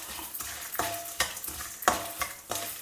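Bydagi and other dry red chillies fry in a pan, with a steady crackling sizzle and rhythmic scraping stirs every half second or so, close and clear with no voices.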